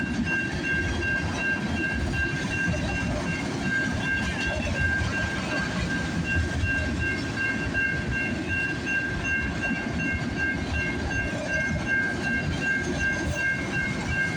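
A CN freight train with five locomotives rumbles steadily past on the tracks on a snowy morning, loud and close, with a continuous heavy roar and a high metallic squeal running throughout.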